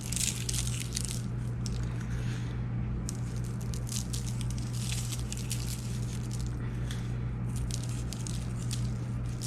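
Salt and pepper mixed together are sprinkled over smashed potatoes. Light crisp pattering and scattering grains come in uneven bursts over a low steady hum, close up, with no speech.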